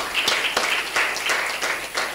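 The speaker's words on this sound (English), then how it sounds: "please let's give them a round of applause for their commitment" Audience at a formal convening applauding, a steady patter of many hands clapping with scattered sharper claps, moderately close and without talk.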